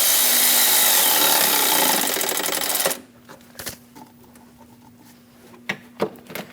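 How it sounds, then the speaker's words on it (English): A ratchet or wrench snugs down the hose clamp bolt on a Chevrolet Express 2500 van, a dense rapid clicking burst for about three seconds, then scattered sharp taps and clinks of tools nearby. "Snug down the bolt for the clamp."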